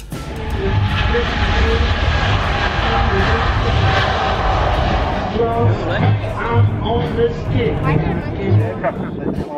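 Eastern Airlines airliner lining up on the runway at Manchester Airport, its engines a loud, steady roar that fades partway through, leaving nearby crowd chatter and voices audible.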